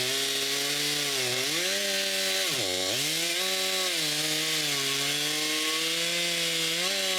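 A chainsaw cutting the branches of a fallen tree at a cottage in cold April weather, a loud continuous close engine drone whose pitch dips briefly as it bites into the wood, then steadies.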